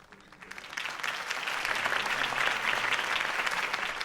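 A crowd bursts into applause in a Batman Telltale game scene, the clapping swelling from a soft start into a sustained, dense roar of many hands.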